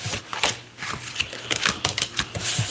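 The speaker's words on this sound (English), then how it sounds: "While I shuffle these cards." Tarot cards being shuffled by hand, close and fairly loud, with quick riffling flutters and crisp slaps arriving in uneven bursts over a few seconds.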